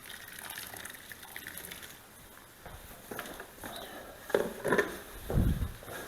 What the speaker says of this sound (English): Hot water going on.